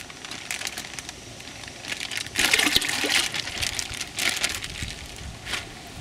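Water with live minnows pours from an untied bag into a tank, a steady trickling splash that swells midway and tapers off, with some plastic crinkling and no talk.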